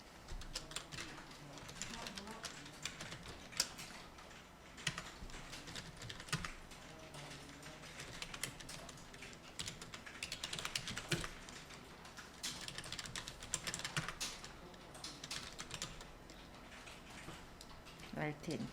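Typing on a computer keyboard while entering data into a spreadsheet, a quiet, close run of irregular key clicks and taps with brief pauses, with faint talk in the background.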